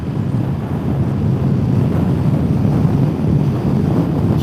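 Wind buffets an outdoor microphone, a steady loud rumbling roar that stays continuous throughout, with no voices.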